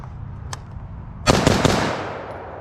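A Kraut Blaster Supreme HK G36 gel blaster fires a short burst of rapid, sharp cracks at close range. One faint pop comes earlier, and then the burst tails off into a hiss.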